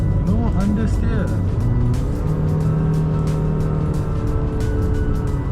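A Honda City Hatchback engine hums steadily as the car takes a corner fast at about 80 km/h without braking, heard inside the cabin beneath continuous talking.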